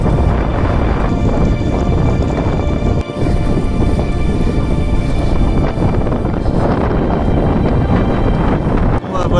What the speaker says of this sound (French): je sens que ça va être un combat de tous les instants avec le vent en pleine face